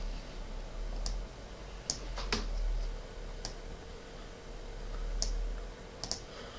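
Text is typed on a computer keyboard in SolidWorks: a handful of sparse, crisp key clicks, some in quick pairs, spread over a low steady room hum.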